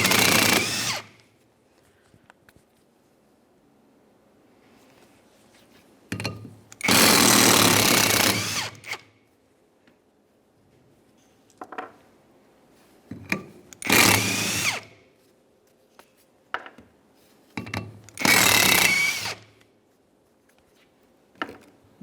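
Impact power tool removing the 14mm bolts that hold a 1994-1997 Honda Accord front wheel bearing hub to the brake rotor, four loud separate bursts of rattling buzz with quiet gaps between them.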